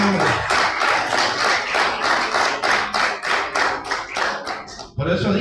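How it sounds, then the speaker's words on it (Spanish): A church congregation claps rhythmically together in a reverberant room, steady beats for several seconds before the clapping trails off and stops. "Denle fuerte el aplauso a Jesucristo,"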